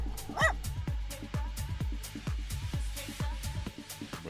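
A dog in the video game West Hunt barking and yelping in rapid repeated bursts while attacking, close and loud over a steady background hum.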